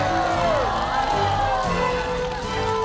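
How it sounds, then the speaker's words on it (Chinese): A studio audience at a variety show bursts into applause and cheering for a prize winner, a busy crowd roar with whoops and voices mixed over the clapping. "我们再次掌声恭喜熊子琪。"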